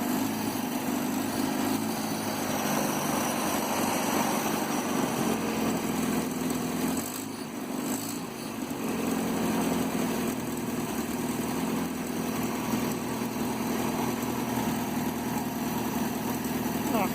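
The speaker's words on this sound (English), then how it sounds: "There's just something special about putting a motor together and then being able to restart it." A 1967 Land Rover Series 2a 109 engine idling steadily after being rebuilt and restarted, a constant close running drone with a short dip midway, alone without talk.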